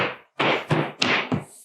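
Several dull wooden thuds as a panel on a ready-to-assemble utility cabinet bottoms out into place, four close, heavy knocks spaced a few tenths of a second apart with nothing in between.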